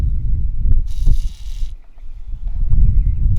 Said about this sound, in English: So I'm gonna spray a little WD-40 on it.